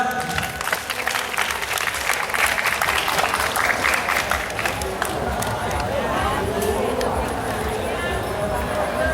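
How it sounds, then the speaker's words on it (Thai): A crowd applauds at a b-boy dance award ceremony during the 2012 illuminated boat festival in Nakhon Phanom. Dense, loud, sustained clapping fills the whole stretch, with a voice speaking early on. "ขอเสียงปรบมือดังๆให้กับแอตแทคูครับ"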